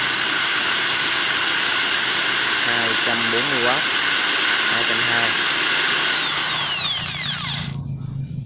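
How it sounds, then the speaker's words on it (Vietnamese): A 550W electric drill runs steadily with a loud, high whine for about seven seconds, then winds down and stops, while someone speaks over it. "Bây giờ tôi sẽ bật máy khoan lên."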